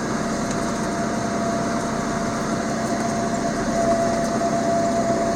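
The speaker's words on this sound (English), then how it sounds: "This ain't too bad grading with this big tractor." A John Deere 6330 tractor engine drones steadily while grading a rough farm road with a Grade Master, a continuous close mechanical hum with no talk.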